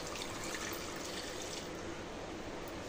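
A steady rush of water pouring into a pressure cooker to boil potatoes, continuous and close for a few seconds.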